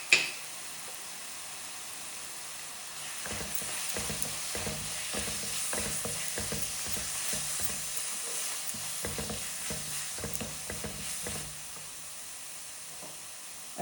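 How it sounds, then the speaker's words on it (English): A frying masala with chopped green chilies being stirred in a pan: steady sizzling with a run of scraping, rhythmic spoon strokes through the middle, close and fairly loud, no talking. "Then I stir it again."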